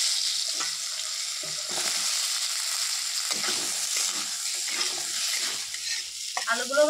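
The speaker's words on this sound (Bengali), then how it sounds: "এবারে এই তেলের মধ্যে আলুগুলো ভেজে নেবো।" Potatoes fry in hot oil with a loud, continuous sizzle, broken by repeated stirring scrapes and crackles from close range.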